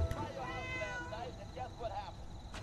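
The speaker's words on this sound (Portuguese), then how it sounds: "Eu também peguei um gato aqui, ó." A cat meows in the Fallout 4 video game, a drawn-out wavering meow followed by a couple of shorter ones, heard under background game noise and a voice speaking.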